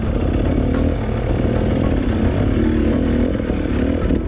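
Enduro motorcycle engine revving steadily and loud as the bike works across a gentle off-camber slope, with throttle surging and easing throughout.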